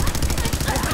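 Rapid gunfire from the video game Fallout 4 rattles in a quick burst of repeated loud shots, harsh and close, filling the whole second.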